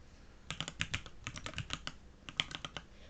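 Typing on a computer keyboard, a quiet run of rapid, uneven clicky keystrokes heard close and alone.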